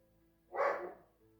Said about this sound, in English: I'm glad that that dog interrupted me